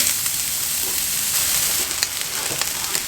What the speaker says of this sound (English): First things down is our onions.